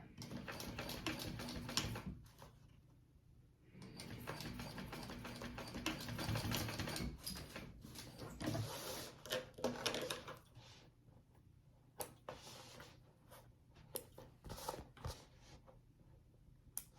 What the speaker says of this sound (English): Now I'm going to try and sew along this line as close as I can on this piece and through both of these connector pieces.